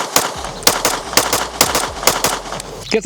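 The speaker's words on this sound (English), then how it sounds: "This thing is super gassy, shooting a lot of gas both sides here, and it's significantly louder." Rapid pistol shots from a Floyds Customs Springfield Echelon fired at a range, about eight sharp loud cracks in quick uneven succession, close and echoing, with a brief voice near the end.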